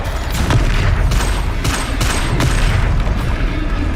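Confringo fire-blast spells cast in Hogwarts Legacy, a loud continuous barrage of booming impacts and crackling bursts, with several sharp hits in quick succession over a rumbling bed.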